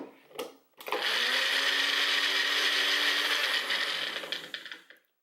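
A Magic Bullet blender with garlic inside starts after a short clatter and runs with a loud, steady high whir for about four seconds, sounding like it is spinning freely rather than chopping, then winds down to silence.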